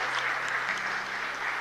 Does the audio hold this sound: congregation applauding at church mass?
yes